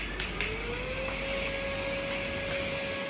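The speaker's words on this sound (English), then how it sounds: "Vacuum it so the dust will not get anywhere." A vacuum cleaner sucking up drilling dust roars steadily nearby, its motor pitch climbing slightly at the start and then holding a constant whine.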